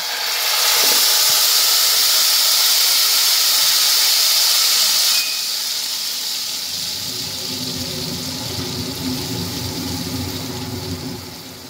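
Poppy seed and mustard paste goes into a hot pan for a vegetarian paneer curry and gives a loud, steady hiss and sizzle that eases slightly after a few seconds, close and continuous, with no talk.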